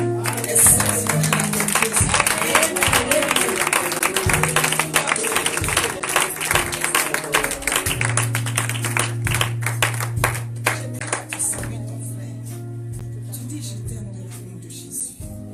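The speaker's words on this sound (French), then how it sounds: "Est-ce que tu peux apporter une acclamation?" A church congregation at a Sunday service claps and cheers, with rhythmic clapping and voices filling the room, over a steady musical drone.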